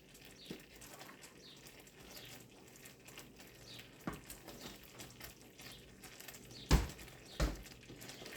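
Peanut butter fudge being stirred in a pot, heard as a quiet, steady low scraping with a couple of sharper knocks near the end.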